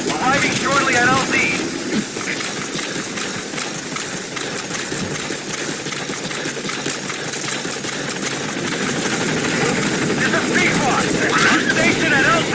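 A support helicopter arrives at a landing zone in Metal Gear Solid 5, its rotor chop and engine whine loud and steady throughout, with voices talking over it.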